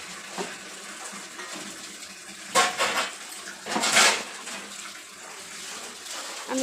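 Dishes and utensils being washed by hand: water runs steadily under clinks and scrapes of metal pots and plates, with a couple of louder clatters partway through.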